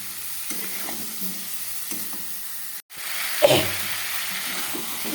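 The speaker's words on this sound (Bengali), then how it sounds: "মটরশুঁটিটাও দিয়ে দেবো। ভালো করে কষিয়ে নিয়ে তারপরে জল দেবো।" Curry with peas sizzles softly in a pan while being stirred, a low frying hiss with light scraping strokes, broken by a short cut and a brief louder stir partway through.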